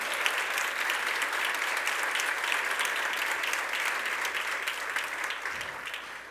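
A church congregation applauds during a sermon, a dense wash of clapping that holds steady for several seconds before easing slightly toward the end.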